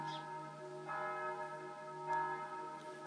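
Church bells ring at a distance in slow, resonant strokes, each toll blooming and fading over a steady sustained hum, with no voices.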